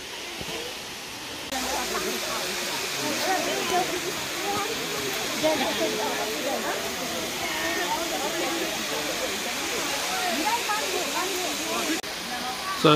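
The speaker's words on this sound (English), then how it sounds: "So that's the top of the falls up there" Steady rushing roar of a waterfall on a Blue Mountains walk, a continuous even wash of water noise heard from nearby with no breaks.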